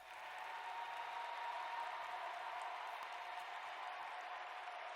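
Arena crowd applause layered into a concert mix, a steady, even wash of many hands clapping at low level, spread wide and continuous with no talk over it.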